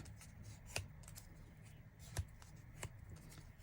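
A sheet of paper is folded in half for a journal page, quiet rustling broken by three sharp crease snaps spaced apart, close and soft against a faint background hiss.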